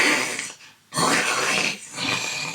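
A voice imitates a film-style lion roar with two hoarse, breathy roaring bursts separated by a short gap, loud and close.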